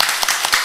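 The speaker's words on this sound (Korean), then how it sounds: "잠깐 일어서 주시면 저희들이 박수로 환영하겠습니다" A church congregation claps to welcome a member back, with dense, steady applause for under a second.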